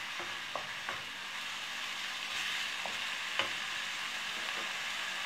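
Food with pepper sizzles quietly in a pan while a spoon stirs it, giving soft scrapes and occasional light taps over a steady low hiss, close by and without talk.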